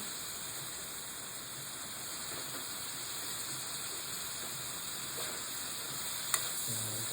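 Chayote and pork sautéing in a hot pan, giving a steady, close sizzle and frying hiss throughout with a brief clink of a utensil near the end.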